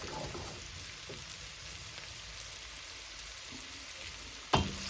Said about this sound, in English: So we roll in the carrot and continue frying.